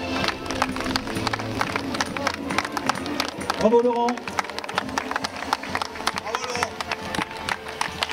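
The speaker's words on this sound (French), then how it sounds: "Allez, sous vos applaudissements, messieurs, dames." Spectators applaud and cheer the runner Laurent Jaffré, second-place finisher of the 2014 Aber Wrac'h trail race, with scattered clapping throughout at a moderate distance, under an announcer's voice and crowd chatter.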